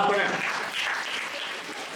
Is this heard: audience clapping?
yes